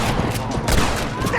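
Rapid, overlapping gunshots in Red Dead Redemption crackle in a dense volley under continuous game sound, with several sharp bursts close together over a second and a half.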